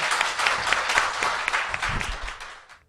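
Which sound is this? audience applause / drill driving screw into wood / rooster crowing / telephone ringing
audience applause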